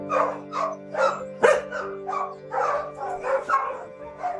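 A mother dog with her puppies gives a steady series of close barks and yips, about a dozen in an even rhythm, with no talk over them.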